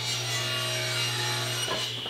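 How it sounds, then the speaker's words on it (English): A saw cuts wooden ledgers for pantry shelves, making a continuous close rasping stroke with a steady hum underneath and no talk. "Next I need to cut out some ledgers that will be attached to the wall."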